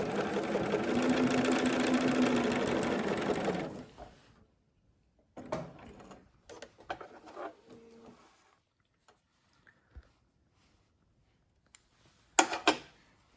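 A sewing machine stay-stitches along the edge of pocket pleats in one steady run of a few seconds, followed by quiet fabric handling and a few light knocks.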